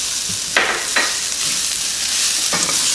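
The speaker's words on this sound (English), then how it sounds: "giving it a quick stir" Bitter melon (karela) stir fry with fresh desiccated coconut is stirred quickly in a pan, with loud scraping sweeps over a constant bright sizzle, three or four distinct strokes.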